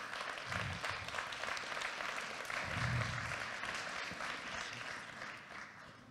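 An audience at a Web3 incubator closing evening in April 2023 applauds as a speaker is called on stage, producing a moderate, continuous clapping that swells in the middle and then eases off, with faint crowd murmur beneath.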